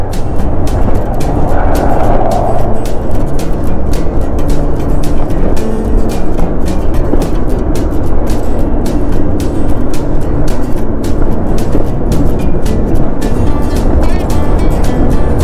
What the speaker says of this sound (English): that wind is rough